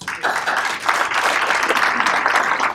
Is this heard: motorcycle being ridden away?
no